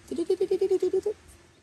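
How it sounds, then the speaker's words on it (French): A small farm sheep bleats one long, wavering call close by, pulsing about nine times in quick, even succession before fading into quiet background. "Alors on a nos petits moutons"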